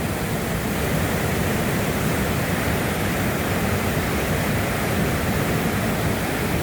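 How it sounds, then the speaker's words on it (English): Loud, steady roar of white water rushing down a river swollen near flood level, a dense unbroken wash of noise with no breaks or voices. "Beautiful white water all the way down."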